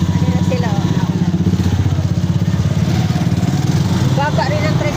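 Motor tricycle engine chugging in a steady, rapid putter close by, with people talking over it throughout.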